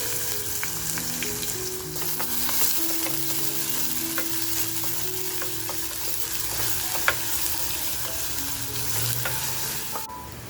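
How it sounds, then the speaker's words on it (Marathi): Chopped garlic and onion frying in hot oil for a spicy Maharashtrian mutton kharda, a steady close sizzle running throughout with occasional light stirring clicks and no talking. "आपण कांदा जो कापून घेतलाय तो कांदा टाकून घेऊया."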